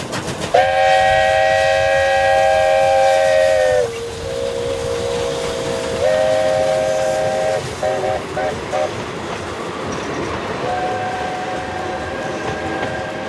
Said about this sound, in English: Come and join us on Umgeni Steam Railway.